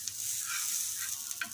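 Ghee or butter sizzles in a hot pan with a soft, steady frying hiss and a few faint crackles, fairly quiet and without any talking.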